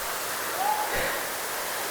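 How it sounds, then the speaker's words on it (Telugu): Munjuluru waterfall flowing as a small stream of falling water, a steady, faint hiss of splashing water that carries on unbroken outdoors. "వాటర్ ఫాల్స్ చిన్న పాయిగానే అవుతుంది."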